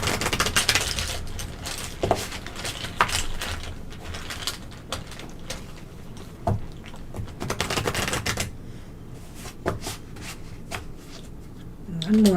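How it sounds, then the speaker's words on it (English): Crisp riffling and soft slapping of tarot cards being shuffled up close, in several bursts with pauses, a voice murmuring faintly now and then. "One more shuffle."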